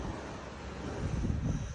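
Wind buffets a microphone outdoors by a parked van in a windy spot, a steady low rumble that swells louder toward the end, with no voices.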